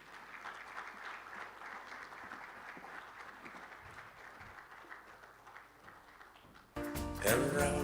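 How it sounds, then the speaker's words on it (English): Steady applause from a conference audience at an energy plenary session fills the hall for several seconds, then a louder burst of clapping and noise cuts in near the end. "A round of applause again."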